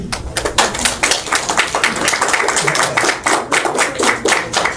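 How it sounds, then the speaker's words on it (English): An audience claps steadily at the close of a talk, sustained and fairly close, dense overlapping hand claps with no voices over them. "We stay around for the clapping, but that was extra special"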